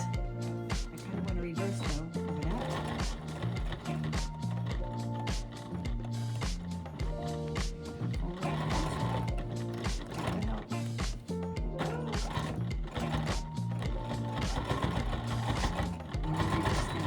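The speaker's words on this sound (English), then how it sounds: "we're just gonna sew 1/4 inch down" A sewing machine stitches a quarter-inch seam down the sides of a fabric tote bag, a steady fast mechanical whirring with rhythmic needle ticks, running continuously and close up with no one talking.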